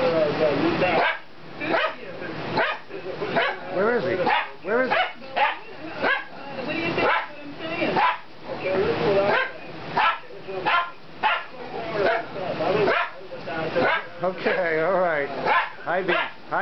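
An Italian Greyhound barks and yips repeatedly in a home, sharp high barks in bursts mixed with whimpers, close and loud, while a person speaks over it.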